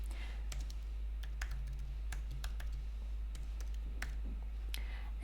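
Someone types HTML code on a computer keyboard, a close, quiet run of irregular key clicks and taps over a low steady hum, with no talking.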